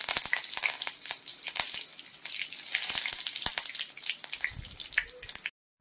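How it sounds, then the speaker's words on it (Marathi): Mustard seeds crackling and popping in hot oil for a tempering, a dense run of sharp close spits and crackles over a frying hiss that cuts off abruptly at the end. "अर्धा चमचा मोहरी घातलेली आहे आणि मोहरी तडतड झाली की अर्धा चमचा जिरे घालायचं आहे"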